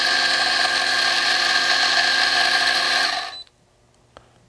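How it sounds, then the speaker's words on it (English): A Fiorenzato F4E Nano V2 espresso grinder grinds a double dose into a portafilter with a steady, fairly loud whir that stops abruptly near the end, followed by a faint tap. "put my portafilter in and press the double button. The grind is very clean and also very quiet."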